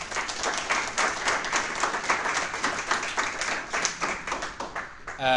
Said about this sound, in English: Let's give a big round of applause for Kurt